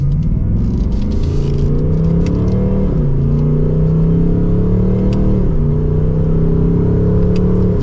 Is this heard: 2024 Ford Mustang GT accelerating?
yes